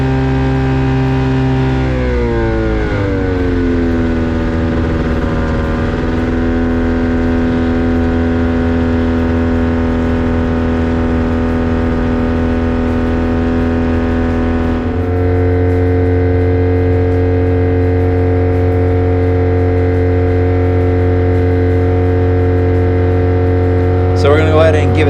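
An Avid Flyer light aircraft's 670 engine drones steadily and loud during a taxi, its pitch sagging then settling, with an uneven, sputtering roughness running through the sustained tone.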